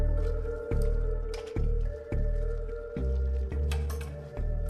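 Wet, rhythmic squishing as skin peels off a dead body waterlogged for several days, a series of soft slimy pulses repeating roughly every half second, close and fairly loud with a steady tonal hum beneath.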